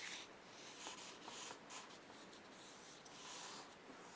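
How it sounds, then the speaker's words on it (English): A pencil scratches and rubs across paper while marking a sketch, quiet close-up strokes in short repeated bursts of varying length with brief pauses between them. "I need to mark on my sketch."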